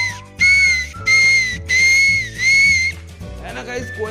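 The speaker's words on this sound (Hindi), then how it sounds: "ये सीटी मेरी फेवरेट है, इसकी आवाज ना बिल्कुल कोयल जैसी है" Toy whistle from a Motu Patlu ring snack pack gives four loud, shrill, steady tones in a row with a warbling, koel-like quality, followed by a softer fluttering trill.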